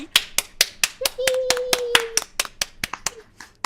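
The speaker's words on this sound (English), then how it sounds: "can we get a round of applause for all of our presentations today?" Hand clapping in response to a call to applaud the presentations, crisp, evenly spaced claps at a steady beat from what sounds like only one or a few pairs of hands, with a brief sustained tone partway through.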